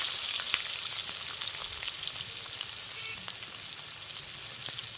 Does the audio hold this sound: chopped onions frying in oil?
yes